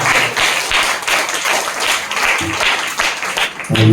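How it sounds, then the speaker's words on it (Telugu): A church congregation clapping hands together during a Telugu sermon, dense steady rhythmic claps from many people filling the room, with no voices over them. "చప్పట్లో కొట్టుకో"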